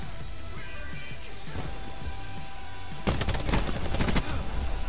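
Rapid gunfire in a Call of Duty pro league video game match, a dense burst of automatic shots in the second half over steady game background noise, loud and close, with no speech.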